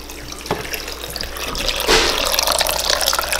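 Cold tap water runs steadily into a sink, with a soft clack near the start and the splashing growing fuller as the flow strengthens.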